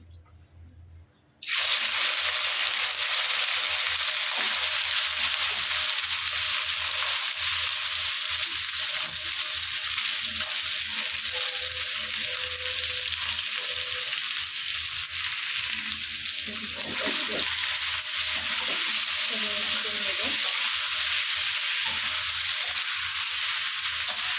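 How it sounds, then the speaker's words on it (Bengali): Marinated pigeon meat frying in a pan, a loud, steady sizzle that starts abruptly and crackles on without pause, with faint stirring clatter partway through. "এখন ম্যারিনেট করে মাংসগুলো দিয়ে দিবি"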